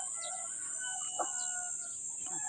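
Farm poultry, including turkeys and ducks, kept beside rice paddies give faint, scattered clucks and calls over a steady high-pitched insect-like hum. No voices are heard.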